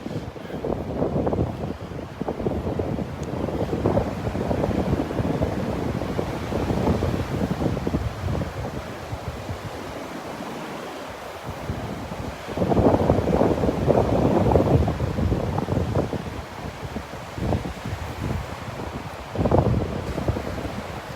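Northeast wind buffets the microphone on Vanderbilt Beach, a steady broadband roar with gusts swelling louder near the middle and end, surf blending underneath and no talking.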